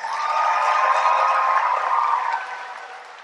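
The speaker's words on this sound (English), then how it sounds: "Let's give our graduates another round of applause." Commencement audience clapping together after the graduates are honored, a dense sustained wash of applause that holds steady for about two seconds and then tapers off, with no talk over it.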